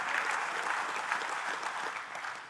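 Steady applause from a crowd of men at a Christian men's conference, a dense continuous clatter of clapping that holds evenly and fades slightly toward the end, with no voices over it.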